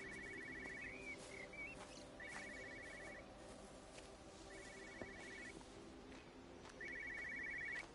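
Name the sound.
telephone ringing in a video game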